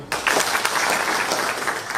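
A crowd applauding at an outdoor gathering, dense clapping starting abruptly and holding steady for two seconds, with voices mixed in.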